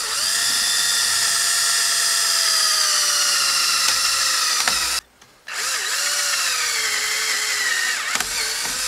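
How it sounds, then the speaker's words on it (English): A power drill with a standard bit bores through a wood spacer piece during modifications to a Lifetime Tamarack Angler kayak, giving a loud, steady close-up whine that cuts out briefly midway, then resumes at full speed. "Let me go ahead and just drill on through this wood piece, since marking where I need to drill anyway."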